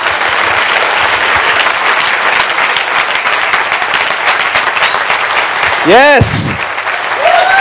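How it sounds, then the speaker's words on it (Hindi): Church congregation applauding for Jesus, loud sustained clapping from a crowd filling the room, with a voice speaking over it and a brief electronic feedback squeal near the end. "आइए प्रभु यीशु के लिए एक अच्छी ताली बजाएंगे हम सब मिलके।"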